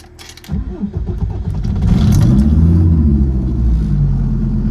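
A diesel-swapped BMW E21 cranks briefly after glow plug preheating, then catches and settles into a loud, close, steady diesel idle rumble.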